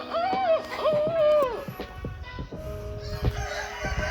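A rooster, the head cock of a college poultry farm flock, crows loudly and close by in rising and falling calls, with other fowl clucking faintly in the background.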